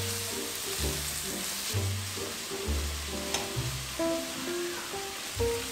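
Kimchi and bacon fry in a pan, giving a steady close sizzle with a bright hiss that runs the whole time, under soft background music.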